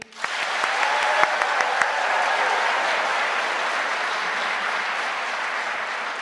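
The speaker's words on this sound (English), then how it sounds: "can you give me your loudest clap of all?" A large graduation audience at a university medical school ceremony breaks into loud, sustained applause that swells quickly and holds steady for several seconds, with a few sharp individual claps standing out early on.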